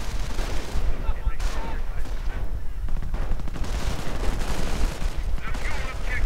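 Gunfire and artillery crackle in a WWII strategy video game battle, dense bursts of shots and booms in rapid succession, with a commentator talking over the combat.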